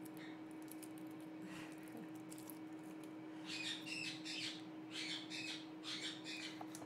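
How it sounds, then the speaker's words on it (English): Pet birds squawk in bursts around a home kitchen, loud cawing calls clustering in the latter half over a steady background hum. "I'm sure you can hear the birds today."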